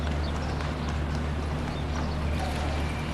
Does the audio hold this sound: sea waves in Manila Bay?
no